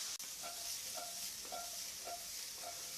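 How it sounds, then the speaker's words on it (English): Bacon sizzling in a pan for beef bourguignon, a steady close hiss of frying fat with a few soft periodic scrapes of stirring, no voices. "You have to excuse the sizzle, we are cooking in real time"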